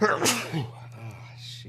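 A single short sneeze close by, quickly followed by a person muttering a brief exclamation.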